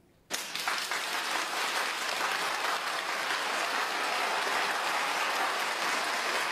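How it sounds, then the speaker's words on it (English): Sudden burst of spontaneous applause from a crowded Chinese church assembly, many hands clapping in a dense, sustained wash that starts abruptly and carries on evenly at moderate distance. "this is a spontaneous applause, unexpected"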